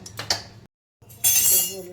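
A kadhai (wok) is set down on a home stove with a few close, sharp metallic clinks and knocks, then a brief silence, then a brighter rattling clatter of metal.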